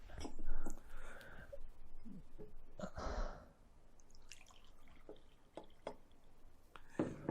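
Water poured and sipped by a lone man indoors during a quiet seminar break: soft liquid trickles and drips, a couple of small gulps, and faint breathy sighs, with no talking.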